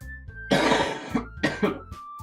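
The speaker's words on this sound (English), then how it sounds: "this cough's killing me" Several harsh coughs from one person, a long hacking burst followed by two shorter coughs with brief pauses between, close and fairly loud, with a faint tone lingering in the background.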